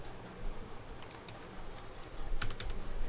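Fingers type on a computer keyboard during data entry in Tally accounting software, with quick irregular clicks and a few louder key taps. The clicking is close, over a steady background hum.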